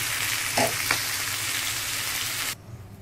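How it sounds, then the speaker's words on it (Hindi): Pomfret fish fries in oil in a pan, a close, steady crackling sizzle with a brief stir, before the sizzle drops away sharply as the flame is turned off. "इसी एक ही चम्मच में देखिए फिश अच्छे से फ्राई हो गई है।"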